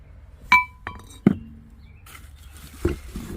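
Glass figurines clink during handling in a warehouse, giving a few sharp, bright chinks at irregular intervals, then softer knocks and rustling in a quiet room.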